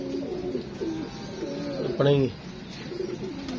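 Pigeons coo in a backyard coop, a few soft throaty calls rising over steady background murmur, with people talking nearby throughout.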